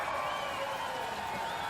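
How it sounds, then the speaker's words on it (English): Spectators at a biathlon World Cup men's individual race in Oestersund raise a steady, moderately distant cheer with whoops as an athlete comes in, a continuous crowd roar across the short span. "gets good cheer as he comes in"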